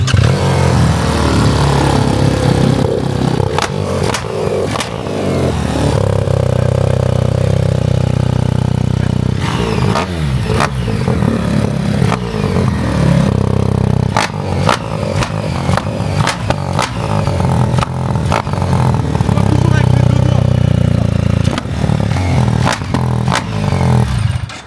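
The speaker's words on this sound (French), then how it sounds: "Ouais, viens, on regarde la GS, le bruit." A BMW GS adventure motorcycle engine revved up close, loud throbbing idle broken by repeated sharp throttle blips and mechanical clatter, with no talk over it.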